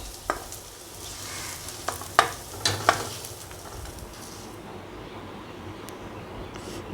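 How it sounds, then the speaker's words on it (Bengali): Onions frying in a pan until deep red for a prawn bhorta, giving a soft continuous sizzle with a few sharp clinks and scrapes of a stirring spoon, fading quieter toward the end. "পেঁয়াজটাও আমার একদম লাল লাল করে ভাজা হয়ে গেছে"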